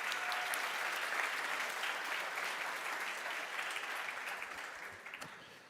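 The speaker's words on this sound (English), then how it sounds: "Big applause for you." An audience applauds at an energy-transition startup award ceremony. Broad, sustained clapping from a large crowd fills the clip and fades slightly toward the end.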